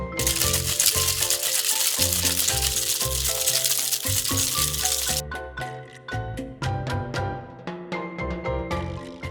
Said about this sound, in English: Add some ice to your tin and whip shake this for 10 to 15 seconds.